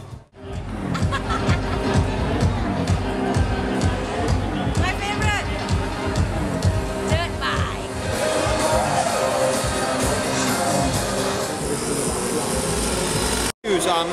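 Dense crowd hubbub at a race-day venue, a continuous loud babble of many voices with aircraft-like engine roar passing overhead, briefly cutting out near the end.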